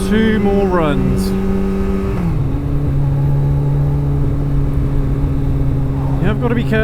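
Kawasaki ZX-14R (ZZR1400) motorcycle on a 0-60 mph run, engine revving loud and close through rising gear pulls with clear shifts, then a long steady drone before another climb, heard from the rider's position with wind roar.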